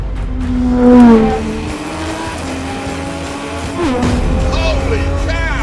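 Aston Martin Vulcan with an 820-horsepower engine roaring loudly as it accelerates, pitch rising and falling through gear changes, with a voice heard under the engine noise.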